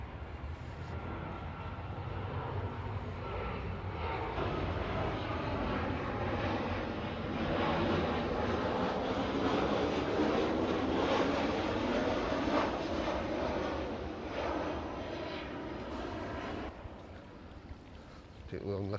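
A fixed-wing airplane passes overhead near a pool bar at a holiday bungalow resort in Caleta de Fuste, Fuerteventura, its broad engine roar swelling and holding steady for most of the stretch before easing, with people faintly talking underneath.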